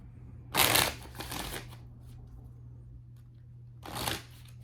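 Oracle cards being shuffled in two bursts, a longer riffle near the start and a shorter one near the end, close and crisp over a steady low electrical hum with no talking.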